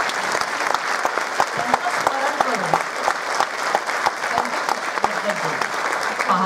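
An audience at a Women's Day programme claps in a sustained burst of applause, dense and even throughout, with a few sharper individual claps standing out.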